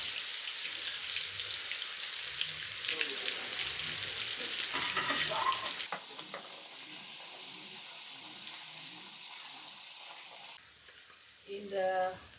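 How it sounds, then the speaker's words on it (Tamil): Prawns sizzle and crackle steadily in a hot pan, with occasional stirring scrapes and a louder burst of frying near the end. "இறால் பொரியல்."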